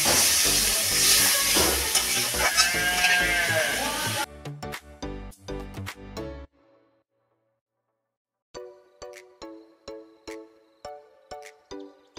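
Water poured into hot fried spice paste for a fig kofta curry hits the pan with a loud, broad sizzle and hiss for several seconds, then cuts off into clinking and stirring sounds in a quiet kitchen.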